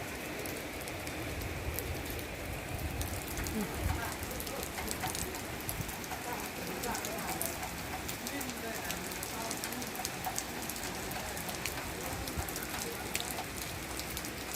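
Continuous rain pattering on a surface, steady and fairly loud throughout, with scattered sharper drips and a faint voice in the background.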